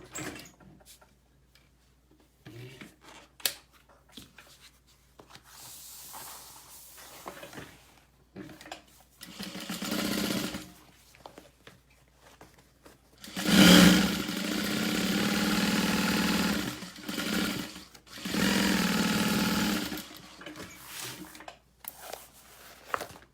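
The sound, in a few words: sewing machine stitching vinyl tote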